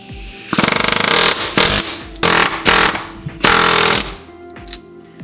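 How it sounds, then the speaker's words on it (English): Pneumatic air chisel hammering at a rubber control arm bushing flange on a Lexus IS300 rear aluminum control arm, loud rapid rattling bursts that start and stop several times, each lasting about a second or so. "I basically started to just cut it off with my air chisel."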